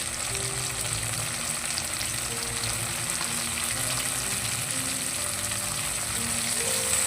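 Sliced tomatoes and onions with curry leaves sizzle in a pan for a dried fish and tamarind leaf curry, a steady dense hiss and crackle up close with no talking.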